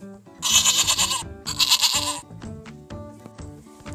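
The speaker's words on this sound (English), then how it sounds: "Goat." A goat bleats twice in loud, wavering calls over light background music.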